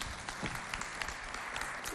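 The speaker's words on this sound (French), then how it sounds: "Allez, applaudissez très fort pour Amoul." An audience at a televised Chad festival show claps steadily for the full stretch, a dense crackle of many hands with no talk over it.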